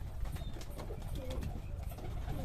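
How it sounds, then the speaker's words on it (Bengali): Giribaz pigeons, a pair of young birds kept by a breeder, cooing continuously close by amid a dense, busy background murmur. "এই দুটো গিরিবাস পায়রা"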